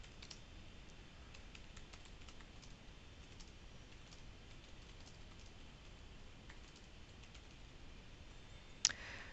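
Soft, quick clicking of computer keyboard keys, faint and steady against low background hiss, with one sharper click near the end.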